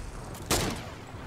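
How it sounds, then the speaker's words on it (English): Gunfire in the Fortnite battle royale game: one sharp, distant shot cracks out midway through a low, steady background hiss. "Oh, I hear gunshots."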